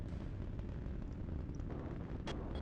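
Torpedo hits explode during a video game space battle, heard as a muffled, low rumbling roar with a sharp brief crack near the end, all fairly faint and distant.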